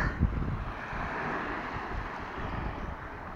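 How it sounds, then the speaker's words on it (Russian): Steady strong wind by the sea in Berdyansk roars and buffets the microphone, a constant rushing noise with a single thump near the start. "Ветер, видать, поднялся сильно"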